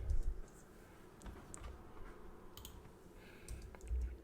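A computer keyboard is typed on, a faint scatter of light key clicks and taps under low room hum, with a couple of soft thumps at the start and end.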